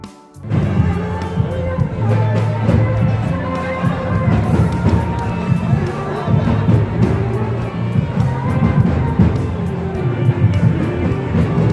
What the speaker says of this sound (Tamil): மக்கள் வெளிப்படுத்திய ஆரவாரம்